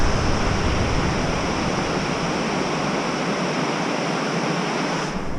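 A river rushes beside a small bridge, making a steady, full hiss of flowing water that stays even and fairly loud throughout.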